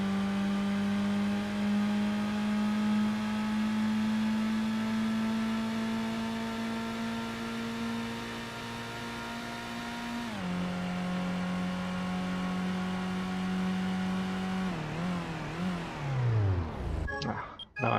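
Manual-geared car in Gran Turismo 1 engine braking, a sustained whining engine note that drops at each downshift and sweeps down steeply near the end, loud and steady with no talk.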